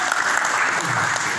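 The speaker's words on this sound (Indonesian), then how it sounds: "Tepuk tangan dulu kepada" Audience applause after a call for a round of clapping at a Christian church gathering, a steady dense wash of hand claps at even loudness throughout, with no clear voice over it.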